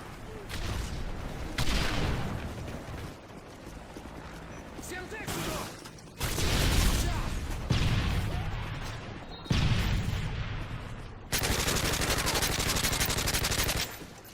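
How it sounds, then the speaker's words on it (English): Rapid automatic gunfire in a first-person shooter, with several loud bursts of sustained machine-gun fire separated by brief pauses, dense and close. "I'm shooting at nothing"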